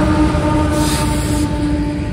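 A freight train passes close by with its distributed power unit locomotive, a loud continuous rumble of wheels and cars with steady tonal squeal and hum, no voices.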